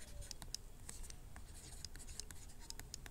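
Pen or chalk scratches across a writing surface during a maths lesson on fractions, faint irregular strokes and taps continuing steadily, with no one talking.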